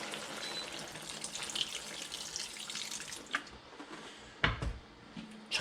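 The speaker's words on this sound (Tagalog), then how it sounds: "So lalagyan na natin siya ng tubig" Water runs and splashes from a tap into a cooking pot for a few seconds, then stops, followed by a couple of faint knocks and clatters nearby.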